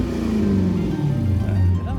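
A project car's engine revs loudly and steadily for about two seconds, its pitch wavering up and down near the listener.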